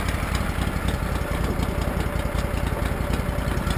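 A Snapper UGT2060H garden tractor engine runs at a steady idle, a loud, close, continuous throbbing chug with an even rhythmic pulse.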